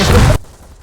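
A tank gun fires in the war video game Foxhole, a single sharp, loud boom in the first moment that cuts off quickly into a faint, low tail.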